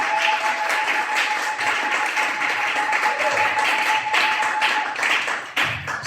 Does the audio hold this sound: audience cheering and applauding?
yes